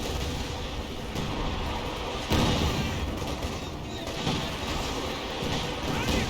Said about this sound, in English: This was like a sector artillery being deployed out by the Scion OKW player.